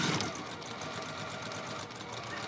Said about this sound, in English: So then we're going to sew this with